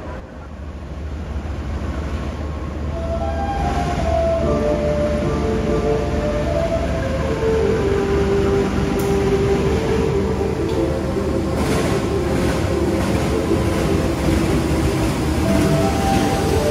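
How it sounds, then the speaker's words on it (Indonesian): The Airlangga passenger train rolls into platform track 1 at a station, a loud steady rumble building and holding with faint screeching tones and a distant horn-like pitch. "ini di jalur 1 segera masuk kereta Airlangga"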